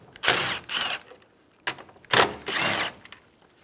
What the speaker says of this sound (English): Using a 10mm socket, remove the 2 bolts for the coolant reservoir.